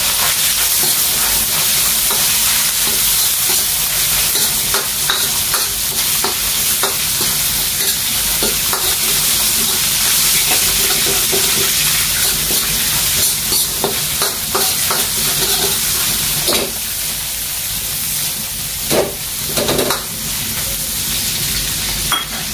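White onion sizzles and hisses in a hot pan during a chicken and mushroom stir fry, a loud continuous fry close by with occasional scraping stirs and clinks.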